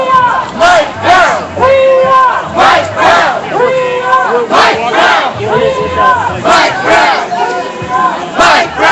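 Large crowd at a street protest chanting loudly in unison with rhythmic repeated shouted phrases, close and surrounding, continuous and full throughout.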